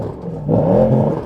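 A Porsche Turbo S saloon's sports exhaust revs in sport mode, rising from a low idle rumble into a louder, bassy swell, close by and heard on its own.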